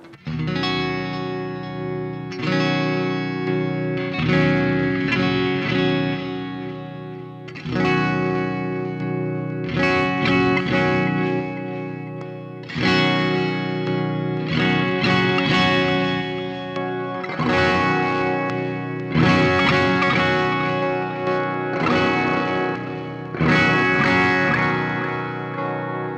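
Strummed acoustic guitar chords through a Fishman onboard pickup preamp ring out with a processed, shimmering effects tone, repeated in steady bursts for a long stretch with sustained resonance between strums.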